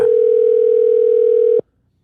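A telephone dial tone sounds as a loud, steady, unbroken hum for about a second and a half, then cuts off abruptly into silence.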